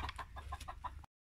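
Hens cluck softly in a farmyard pen, a quick run of about six short, faint clucks over roughly a second before the sound cuts off.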